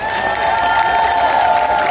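Loud, enthusiastic applause and cheering from a crowd at a night-time Mid-Autumn Festival dragon dance by a temple, a dense continuous roar of clapping with a few raised voices mixed in.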